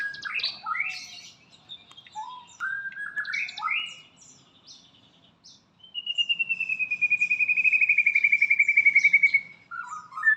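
Magpie robin (murai) songbird singing near a roadside, clear varied whistled phrases and chirps, then a long rapid trilled warble, close and loud against a quiet background.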